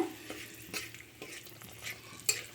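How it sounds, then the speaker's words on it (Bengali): Two dried red chillies and a bay leaf crackle softly in oil left from frying fish heads, with quiet spoon scrapes and stirring taps in a short, faint burst. "মাছের তেলে দেব ফোড়নে দুটো শুকনো লঙ্কা তেজপাতা"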